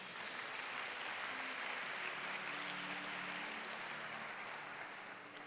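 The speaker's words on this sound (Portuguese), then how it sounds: "Dê uma salva de palmas." Steady broadband applause fills a church service, a dense even roar of many hands clapping throughout, with no speech over it.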